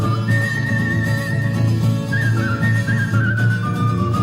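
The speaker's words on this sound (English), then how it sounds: "That's not how he whistles." A person whistles a long, wavering melodic tone in a film scene, thin and sustained over a loud background of music and low rumble, with the pitch sliding and dipping near the end.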